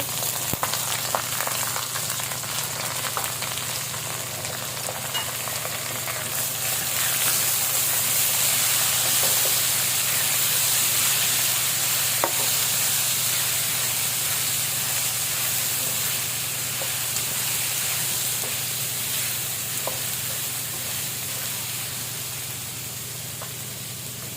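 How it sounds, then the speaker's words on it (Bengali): Soaked moong dal stir-fried in a pan after onions, a continuous hissing sizzle that holds steady and fairly loud throughout, with faint clinks now and then and no voices. "এখন আমি দিয়ে দিব ডালটা একটু কষিয়ে নেব।"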